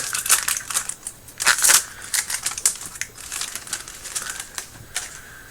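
Crisp papery flicking and riffling comes in quick bursts, close and fairly loud, as a stack of Magic trading cards from a Ravnica Allegiance pack is shuffled by hand.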